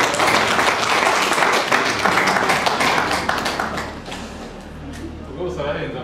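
Wedding guests at a civil marriage ceremony in Rwanda clap in a loud, dense burst that thins and fades toward the end, with voices talking underneath.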